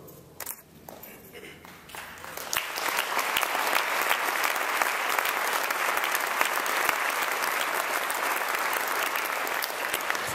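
A crowd at a university museum's grand opening breaks into loud, sustained applause that continues steadily after a few scattered claps.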